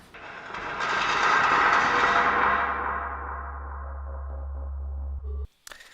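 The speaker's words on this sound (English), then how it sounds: "so I took the ordinary screeching sound effect that we got from the gate and added some delay and reverb to make it trail off" A gate's screech, treated with delay and reverb, swells into a long, loud metallic wail that slowly trails off over a low hum before cutting out.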